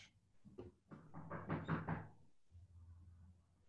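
A burst of quick knocks on a house door, several hollow raps in a row at moderate distance, followed by a low room hum.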